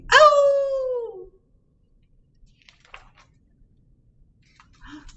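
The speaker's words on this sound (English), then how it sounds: "He heard a wolf howling." A wolf howls once, a clear, drawn-out falling cry lasting about a second, followed by near silence and a few faint soft sounds.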